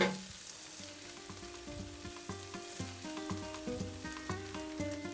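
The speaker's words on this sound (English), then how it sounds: "I'm going to add the tortillas to this saute" Torn tortillas sautéing with scrambled eggs for migas: a soft sizzle close in the pan under steady background music, with no talking.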